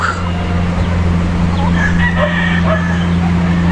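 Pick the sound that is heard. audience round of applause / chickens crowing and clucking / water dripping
chickens crowing and clucking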